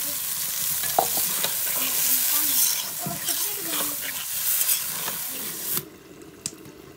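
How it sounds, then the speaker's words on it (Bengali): Broiler chicken and potatoes sizzle loudly in a kadai while a spatula stirs and scrapes them close up. Near the end the frying noise drops off sharply, leaving quieter bubbling. "এই যে ভাজা ভাজা হয়ে গেছে, এখন অল্প একটু এই যে পানি দিয়ে দিলাম"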